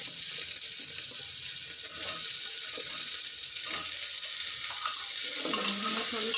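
Chopped onion sizzling in hot oil in a pan while cooking khichdi, a steady soft frying hiss close by, with faint stirring clinks and no voices.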